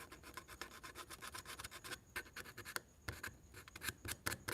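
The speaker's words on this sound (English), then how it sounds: "let me sand a little bit of this" Sandpaper rasps against a Corvair interior part in quick back-and-forth strokes, a faint, close scratchy rubbing with brief pauses between bursts.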